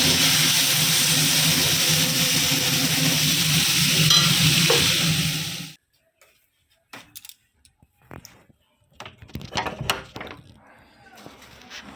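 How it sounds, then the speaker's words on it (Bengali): Vegetables such as potato, cauliflower and carrot frying in a pan with onion, a loud close sizzle for about six seconds that stops abruptly, followed by quieter scattered knocks and handling sounds. "সবজি দিয়ে আমরা ভাজা ভাজি"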